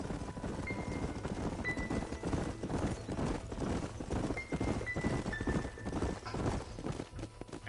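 Horses' hooves clip-clop steadily on a dirt trail in the Red Dead Redemption video game, several riders moving together in a continuous, moderately loud rhythm over faint ambient background.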